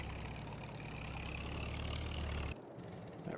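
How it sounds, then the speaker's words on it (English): A farm tractor in a Farming Simulator game idles with a steady, loud diesel rumble that runs unbroken for a few seconds, then cuts off abruptly, leaving a quieter tail. "That tractor actually has some really good sound to it."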